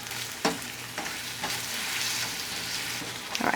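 Butter and brown sugar melting and bubbling in a pan into a butterscotch, giving a continuous hissing sizzle with occasional soft stirring scrapes and taps, near and steady without speech.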